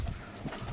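Pigeons in a home loft in Kushtia give a brief, low cooing murmur with soft rustles, close by and moderately quiet.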